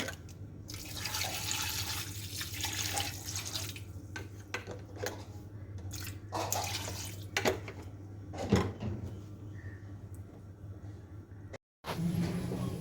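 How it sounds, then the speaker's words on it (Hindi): Water runs from a tap into a pressure cooker of dal in a home kitchen, a steady splashing stream with metallic clinks of pots and utensils, a short pause near the end, then more running water. "थोड़ा सा पानी ऐड करके।"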